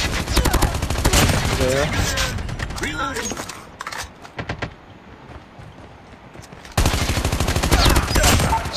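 A close-range gun fires in rapid, loud bursts in Call of Duty Mobile. The firing is heavy at the start, thins to scattered shots, then returns as a dense volley, with someone talking over parts of it.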